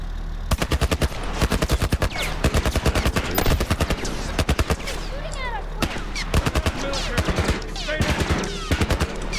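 Military-grade automatic gunfire from The Last of Us game, loud sustained bursts of rapid shots repeating across the whole stretch, with some background game sounds between volleys.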